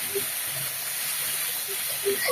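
Ginger and garlic sizzle in hot oil with a steady, close, dense hiss that holds evenly throughout.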